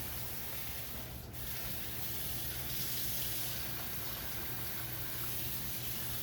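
Tap water runs steadily into a container being filled to brine a Thanksgiving turkey, a continuous close hiss and splash lasting throughout with no talk.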